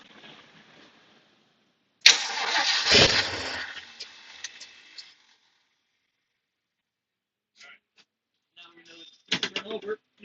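A Jeep engine, fed by a temporary electric fuel pump with the choke out, cranks in one loud burst that briefly catches and dies away, followed by quiet and scattered clicks and clatter.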